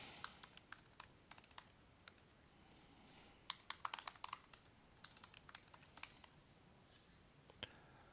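A username being typed on a computer keyboard, with bursts of crisp, quiet key clicks in uneven clusters and short pauses between them.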